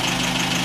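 An MG TF's engine runs steadily at idle, a continuous close mechanical hum with a faint knocking pulse throughout.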